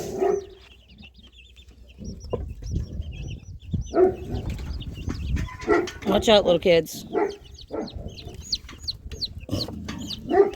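Chickens cluck and little chicks peep in a backyard coop fenced with chicken wire, scattered chirps and clucks running throughout alongside nearby movement, with people talking over them.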